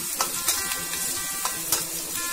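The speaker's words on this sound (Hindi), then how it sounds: "sea onion is getting red now, the colour is changing, but still I will fry" Onions fry in a pan for jackfruit kofta, giving a steady close sizzle broken by sharp spatters and a few stirring scrapes, with no one talking.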